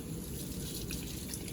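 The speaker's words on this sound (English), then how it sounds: "rinse it with a small amount of DI water" A short splash of DI water runs over laboratory glassware in a steady, soft trickle, brief and close with no talking.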